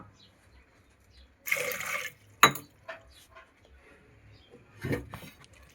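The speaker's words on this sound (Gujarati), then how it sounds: "એમાં હવે આપણે જરૂર પૂરતી પાણી નાખશું, બફાઈ જાય એટલું પાણી નાખવાનું" Water is poured into a pot of chopped potatoes for boiling, heard as a short splashing pour, a sharp clink, then another brief burst of pouring, with quiet gaps between.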